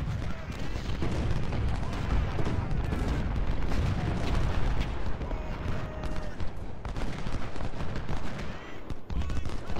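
Siege guns and massed gunfire in the Civil War strategy game Ultimate General Civil War at Marye's Heights, Fredericksburg: a steady, dense crackle of musketry and booming cannon fire, loud and continuous with no break.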